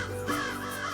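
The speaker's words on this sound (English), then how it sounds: "the noise from the crows subsides as they circle and settle back in the trees" Crows caw in a short, harsh burst, loud and close, overlapping calls filling the whole moment with no other sound.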